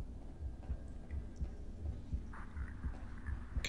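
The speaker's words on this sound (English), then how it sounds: "Hear my heartbeat." Heartbeat sound effect in the Half-Life: Echoes video game, a soft, low, steady thumping pulse repeating about twice a second, muffled and faint with no talking.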